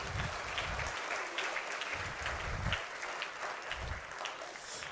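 A church congregation claps after a sermon, steady dense applause from many hands that carries on evenly for several seconds, heard from some distance in a large room, with low thuds underneath.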